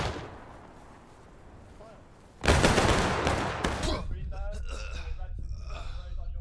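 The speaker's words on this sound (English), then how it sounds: "Fire! Reload! Fire." Muskets fired in a ragged volley at a Civil War reenactment, a sudden loud crackling burst that trails into scattered shots and echoes, with voices shouting commands.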